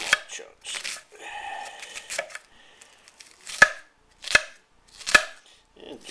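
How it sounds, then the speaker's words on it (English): A knife cuts onions into small chunks on a board, close and crisp. Scattered cutting sounds lead into three sharp, evenly spaced chops, and there are brief pauses between strokes. "I cut them this way to make them small chunks"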